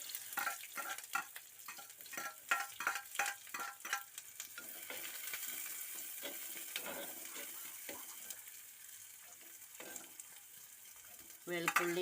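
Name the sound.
onion frying in coconut oil after mustard seeds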